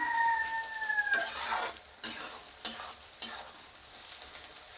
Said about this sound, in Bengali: এইভাবে লাল করে নিতে হবে ভালো করে, একটু এইভাবে বারবার নাড়তে হবে।